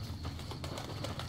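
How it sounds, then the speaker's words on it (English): Birds coo softly in the Fallout: New Vegas video game, a faint, steady ambient layer with no talking over it. "Birds."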